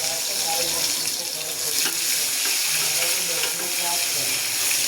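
Garlic and cumin fry in hot oil with a steady, hissing sizzle that runs throughout, with faint scraping of a spoon in the pan.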